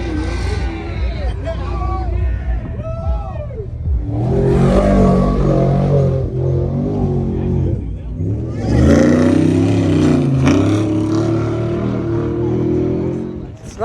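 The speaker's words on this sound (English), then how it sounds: "Truck race is officially started." Off-road race trucks roar past at King of the Hammers in the desert, loud revving engines rising and falling in close passes, with a crowd murmuring and people talking nearby.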